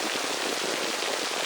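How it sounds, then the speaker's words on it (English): Designed steady rain downpour for relaxation, a dense, even hiss of drops striking surfaces without pause, soft and continuous on its own with no voices. "So I work with that a little bit just to increase the realism of the rain"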